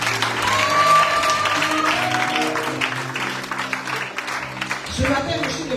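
A church congregation at a praise and worship service applauds and cheers, with sustained clapping and raised voices over organ or keyboard chords, then a brief lull before the sound picks up again.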